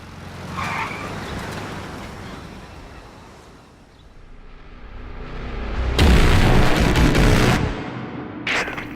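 A car in the video game Metal Gear Solid V: Ground Zeroes drives and skids during a daytime base escape, with engine roar, a loud rough crash-like burst and a brief final impact.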